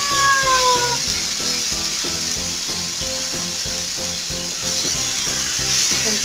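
Chicken breasts frying in olive oil in a pan give off a steady, fairly loud sizzle that runs the whole way through, with no talking.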